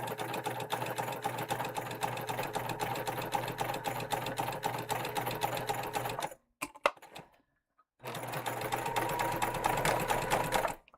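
Sewing machine stitching a tote with a movable needle position, running loud and steady, pausing briefly, then resuming for a few more seconds.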